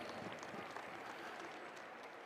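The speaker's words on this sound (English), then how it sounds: "How about a big round of applause?" A brief burst of audience applause for the mayor of Saskatoon at a track and field championship, steady crowd clapping throughout, faint and somewhat distant.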